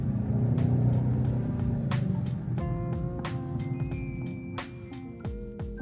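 A car driving down the Stelvio Pass mountain road, a steady close engine rumble with shifting pitch as it slows and accelerates through bends, plus faint sharp clicks, no talking.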